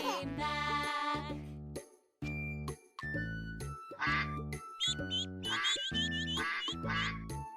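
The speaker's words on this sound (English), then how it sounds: "Mother duck said, quack, quack, quack." A toy-like electronic melody of repeated quacking duck sounds plays in steady rhythmic bursts, bright and tinkling, alone with no talking.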